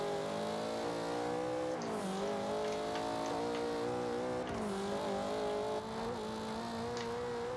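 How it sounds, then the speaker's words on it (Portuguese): A Mitsubishi Eclipse engine held near top speed on a highway in Forza Horizon, a loud continuous high drone with small pitch dips at gear or throttle changes and faint tire noise, no talk. "Vamos dar um top speed aqui na rodovia, vai."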